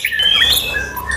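A white-rumped shama, or murai batu, gives sharp, high, piercing whistled notes in quick succession, close and loud, during a bird-market visit.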